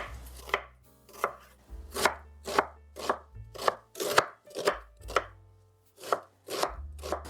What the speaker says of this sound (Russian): Одну среднюю луковицу режу довольно крупными кусочками.